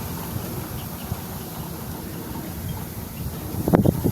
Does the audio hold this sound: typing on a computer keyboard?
no